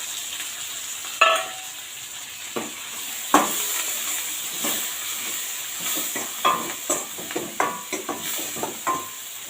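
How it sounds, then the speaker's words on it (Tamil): Broad beans with coriander leaves sauté in a pan with a light sizzle, while a spatula knocks and scrapes against the metal in irregular strokes, heard close. "இப்போ இதெல்லாம் ஓரளவுக்கு இந்த பச்சை வாசனை போகிற அளவுக்கு வதங்கியிருக்கும்."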